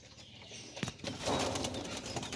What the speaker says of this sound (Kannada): ಈ ಥರ ಪಾರಿವಾಳಗಳು ಜಾಸ್ತಿ ಇದೆ ನಮ್ಮ ಹತ್ರ